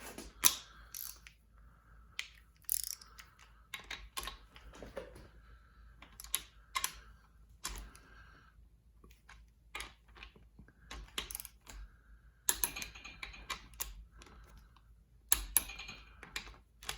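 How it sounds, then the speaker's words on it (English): A torque wrench set to 45 tightens bolts during a flathead engine rebuild, giving a series of sharp ratcheting clicks in short bursts between quiet gaps, close and fairly faint. "My torque wrench set to 45."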